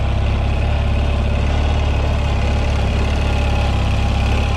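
A Ural Tourist motorcycle engine idles steadily close by, a continuous low, throbbing rumble with a slightly knocking beat and no talking.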